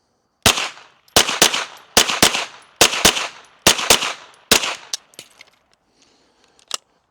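Eight sharp pistol shots from a Ruger loaded with Fiocchi small pistol primer rounds crack out in a fairly even rhythm, close and loud with ringing tails, followed by a few faint clinks and one last small clack.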